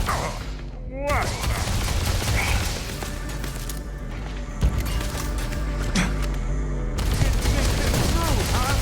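Rapid bursts of gunfire in a video game, dense fusillades and machine-gun-like volleys with crashes and whooshes, loud and continuous throughout with voices mixed in.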